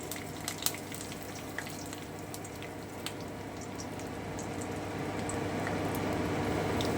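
Curry leaves and asafoetida frying in hot oil for sambar dal: a continuous soft sizzle with scattered crackles and pops, louder near the start, and the hiss grows slightly fuller toward the end.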